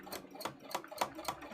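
Domestic sewing machine stitching fabric to hem it, making a close, steady run of light rhythmic ticks and clacks about four times a second.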